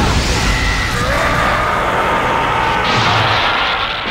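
Spirit Gun energy blast in an English-dubbed anime film: a loud, sustained roaring rush of noise like a powerful booming burst, filling the whole moment without speech.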